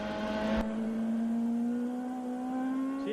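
CART Indy race cars at Portland in 1997, driven on light throttle in the rain, make a steady, slowly rising engine whine with a brief broadband burst near the start, moderately loud and without voices.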